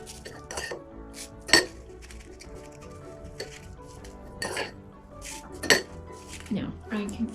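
Sand spooned from a dish into a cardboard funnel while stuffing a Waldorf bunny doll: scattered light clinks and scrapes of a spoon against a container, soft and close, with brief louder taps and no talking.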